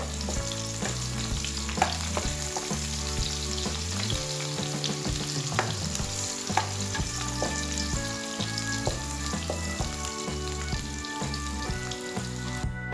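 Onions stir-fried in a pan until yellowish give a steady sizzle with occasional scrapes of a spatula, close and continuous, under a prominent musical bed with no talking.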